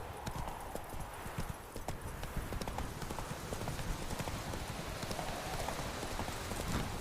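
Horse hooves clip-clop in a quick, steady rhythm over a constant hiss of rain in the video game The Witcher 3: Wild Hunt, continuing without pause.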